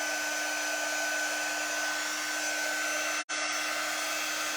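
A hair dryer blows steadily and loudly onto transfer paste laid on a notebook page, a constant whooshing drone broken only by one brief cutout near the end.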